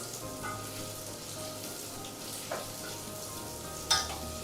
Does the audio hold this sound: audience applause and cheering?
no